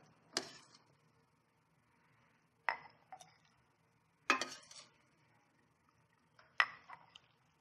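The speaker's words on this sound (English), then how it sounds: "I'm going to take the soup and ladle it right into this crock." Soup ladled into a crock, heard as four separate, fairly quiet clinks and taps of ladle against crockery, spaced a couple of seconds apart, with a little liquid splash after some and near-silence between.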